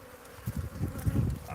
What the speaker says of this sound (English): look at all those guard bees